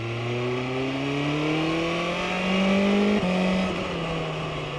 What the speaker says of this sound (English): I plugged in one near the exhaust, hoping to capture that exhaust note as well while I'm riding.